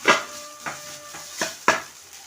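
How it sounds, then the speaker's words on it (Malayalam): Rice being stirred into fried onions in a pot, four separate scraping clanks of a spoon against the pot spaced about half a second apart over a faint background. "അതിലേക്കിനി നമ്മൾ ചോറിട്ടിട്ട് ഇളക്കി കൊടുക്കാം"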